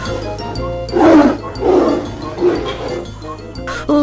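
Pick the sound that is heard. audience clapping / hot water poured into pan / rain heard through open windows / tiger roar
tiger roar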